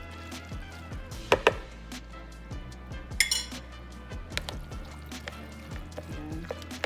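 A meat mixture for Filipino hardinera being stirred with crushed pineapple in a metal bowl, producing sparse clinks and scrapes of a utensil against the dish, close and moderately quiet, with a couple of sharper knocks.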